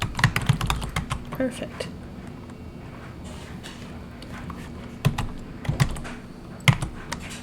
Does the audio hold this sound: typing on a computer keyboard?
yes